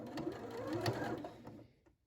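A sewing machine stitches a seam with a steady, fast mechanical whir that runs close and alone, then slows and trails off to quiet at the end.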